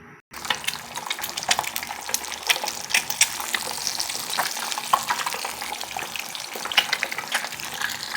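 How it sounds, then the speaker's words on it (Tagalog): Eggs fry in hot oil in a pan for breakfast, a loud, crackling sizzle with sharp spattering pops that starts abruptly and continues steadily up close, without speech. "nagpapainit na tayo guys ng ating mantika. Tapos ilalagay na natin yung itlog dyan"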